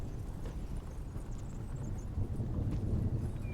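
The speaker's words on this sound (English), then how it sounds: "The horse sounds on Foundry sound like cheeks clapping." Horse hoof clip-clop effect from the Foundry virtual tabletop, playing as a steady run of soft, muffled hoof knocks over a constant low rumble.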